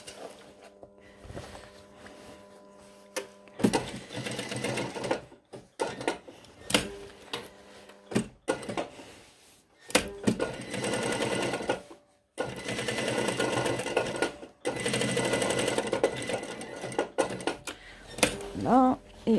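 A sewing machine stitches the front shoulder seam of a Perfecto-style jacket, running in several bursts of steady rapid whirring separated by brief pauses, fairly loud and close, with a little quiet speech between runs.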